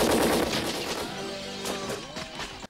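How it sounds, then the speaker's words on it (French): Shootout in the 1995 film Sans pitié, ni pardon, with dense rapid gunfire and crashing impacts mixed with music and effects, loud at first and thinning toward the end. "on est en pleine fusillade et personne n'a pensé à amener une arme"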